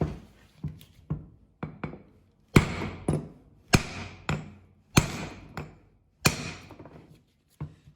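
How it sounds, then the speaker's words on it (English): Sharp metallic hammer blows strike the outside of a BMW E36 brake caliper repeatedly in an uneven series, about a dozen close, ringing whacks with brief pauses between them. "you get a hammer, and just on the outside right here, give it a couple good whacks"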